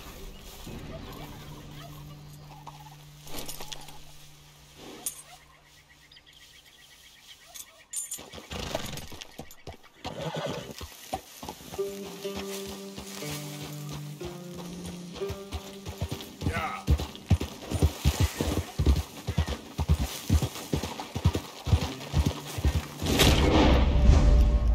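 A horse gallops in the Red Dead Redemption 2 video game, its rhythmic hoofbeats building to a fast, loud clatter over game background sounds.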